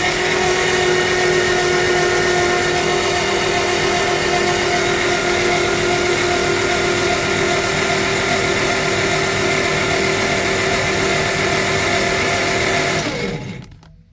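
Gray Marine inline six marine engine cranking over on the starter with its spark plugs removed, a loud continuous even whirring drone that cuts off abruptly near the end.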